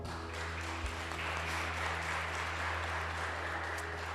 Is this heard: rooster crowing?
no